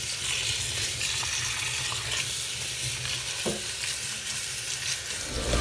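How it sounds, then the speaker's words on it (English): Running water rinses bleach out of the knots of a lace frontal wig in a steady, close hiss that continues without a break, with no talk. "right now we're just washing the bleach out of the hair"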